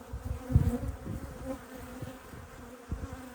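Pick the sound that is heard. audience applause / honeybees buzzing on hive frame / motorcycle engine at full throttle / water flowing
honeybees buzzing on hive frame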